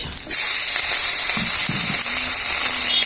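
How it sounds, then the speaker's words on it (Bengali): Fish hits hot oil with dried red chillies and black cumin in a very hot wok, giving a loud continuous sizzle with sharp crackles and a few stirring scrapes, close up and without talk. "এখন দিয়ে দিব মাছ"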